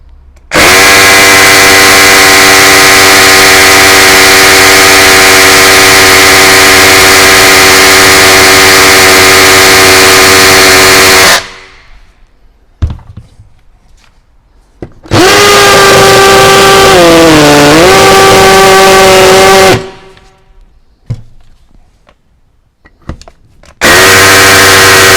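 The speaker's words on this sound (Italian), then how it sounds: "Andiamo col tassellatore, concentratevi sul rumore." A Parkside PABH 20-Li B2 cordless rotary hammer from Lidl drills in loud, steady buzzing bursts. A long run is followed by a pause, then a shorter burst whose pitch sags under load, and a final brief start.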